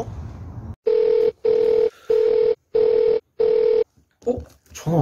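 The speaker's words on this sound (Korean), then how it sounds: "전화 왔네?" An incoming call sets a telephone ringing: five even, loud electronic rings in a steady rhythm with short gaps between them, then a brief voice afterward.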